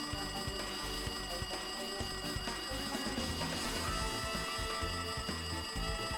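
A telephone rings in the video game Danganronpa 2, a continuous electronic trill with a steady, buzzy repeating pattern that fills the whole stretch at an even level, with no voices over it.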